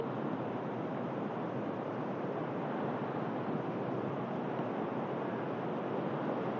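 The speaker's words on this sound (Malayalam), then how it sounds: "പക്ഷെ ഇപ്പോൾ ഇതാ കരവരെ വെള്ളം കയറിയ സ്ഥിതിയിലാണുള്ളത്." Steady, broad wash of sea surf reaching the shore at Muzhappilangad driving beach, a continuous roar at even loudness with wind noise over it throughout, no voices.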